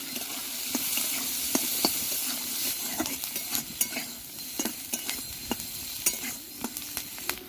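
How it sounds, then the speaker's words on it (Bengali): Onion, carrot, capsicum and green chilli fry with five-spice seeds in a wok: a continuous soft sizzle runs underneath, punctuated by frequent crisp clicks and scrapes of a spatula against the metal. "একসাথে ভেজে নেব।"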